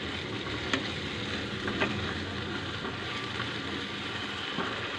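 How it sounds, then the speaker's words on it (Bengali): Masala spices frying in oil over a low-to-medium flame for chole: a continuous soft sizzle with faint spatters and occasional light ticks, fairly quiet and even throughout. "এই যে আমার মশলাটা ভাজা ভাজা হচ্ছে, দেখুন সাইড দিয়ে তেল বেরোচ্ছে।"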